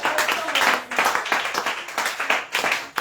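Congregation at a French-language Christian combat prayer service clapping in rhythm to acclaim Jesus, steady close hand claps forming a lively beat with voices mixed in.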